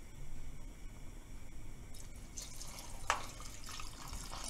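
Hot water poured into moong dal cooking on a lit gas stove, a soft splashing pour rising after a quiet start, with one sharper splash near the middle, close and fairly faint, no voices.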